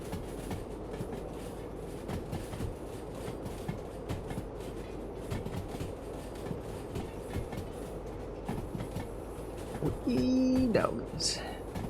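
Train cars in the Derail Valley railway game rolling with a steady rumble and clattering rail noise throughout, with louder clanks and a squeal near the end, while someone talks over it.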